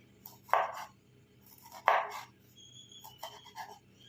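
A knife slices lengthwise through a lemon half in two or three quick close cutting strokes, each a short crisp slice, with quiet moments between and no talking.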